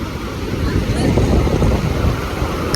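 Rough monsoon sea waves crash on a beach, surging and pulling back hard: a loud churning wash rolls on continuously, mixed with wind buffeting.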